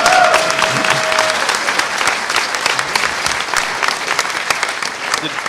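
Conference audience applause at a hacker convention panel on social engineering, loud dense clapping that starts strong and slowly tapers, with a brief voice at the start.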